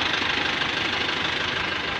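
A truck engine idles steadily and fairly loud, with an even, low mechanical rumble and a slight knocking pulse, and no voices are heard.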